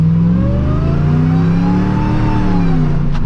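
A Dodge RAM 1500 with a Hellcat engine swap pulls away under acceleration, its loud, steady engine note rising in pitch and easing through soft, smooth gear shifts, heard up close with no talking.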